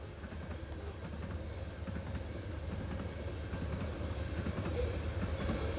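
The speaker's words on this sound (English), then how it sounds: "leading a westbound grain train" A westbound BNSF grain train led by locomotive 6800 rolls past at dawn near Horse Thief Lake, a steady rumble of rail cars with faint wheel clatter, heard at a distance and fairly quiet.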